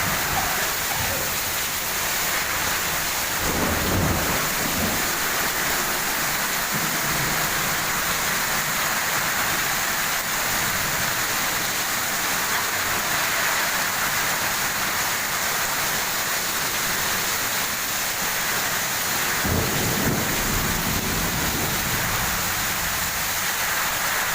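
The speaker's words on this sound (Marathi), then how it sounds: "पाऊस पाऊस" Unseasonal rain pours steadily in Dharashiv (Osmanabad) district, a dense, even hiss of falling water with a couple of brief swells; no distinct thunder stands out.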